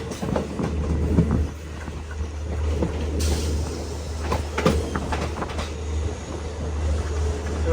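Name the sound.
train arriving at Budgam station, Kashmir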